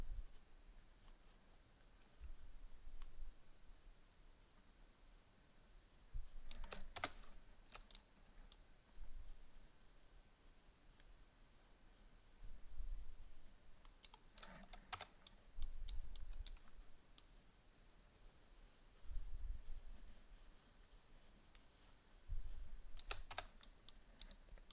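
Computer keyboard keys clatter in short bursts of quick clicky taps separated by quiet pauses, faint and close, with no voices.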